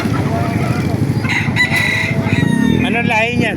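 A rooster crows loudly nearby at a chicken market, a drawn-out rising call, amid chatter and background noise from people talking.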